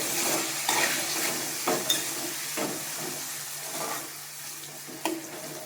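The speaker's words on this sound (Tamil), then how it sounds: "இப்போ நம்ம தக்காளி சேர்த்துக்கலாம்." Tomatoes fry in a pan for a South Indian fish curry, a soft continuous sizzle broken by a few spoon scrapes and stirring knocks, fairly quiet and close.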